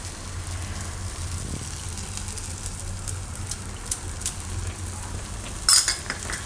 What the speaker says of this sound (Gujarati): એકદમ હલાવીને મિક્સ કરી લઈશું